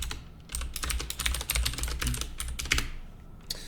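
Rapid typing of C++ code on a computer keyboard, with close, crisp key clicks in a steady, uneven patter and no voices.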